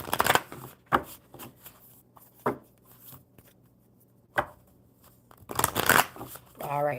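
Playing cards being shuffled at a table in several bursts of riffling and bridging, close and crisp, separated by quiet gaps; a person speaks between the shuffles.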